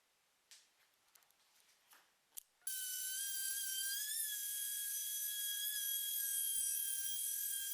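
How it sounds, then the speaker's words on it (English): A random orbit sander with 80 grit paper works over a beat-up wooden tabletop in a workshop. A few faint clicks come first, then the sander switches on with a sudden, loud, steady high whine that holds to the end. "So I brought it down into the workshop and sanded it using the random orbit sander."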